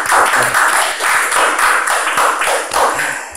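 An audience claps in pulsing, rhythmic waves that stay loud and close throughout, with no clear talk over it.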